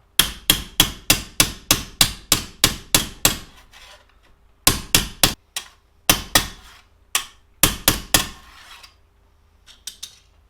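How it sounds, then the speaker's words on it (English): A hammer strikes a metal number plate through a protective piece of material, sharp rhythmic blows in quick runs separated by short pauses, close and loud. "Just don't hit it direct with the hammer. Use a bit of material and hit that"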